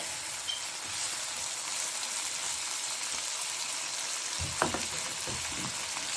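Chicken jalfrezi with very little gravy cooks in a pan, making a steady close sizzle with a few soft stirring knocks near the end.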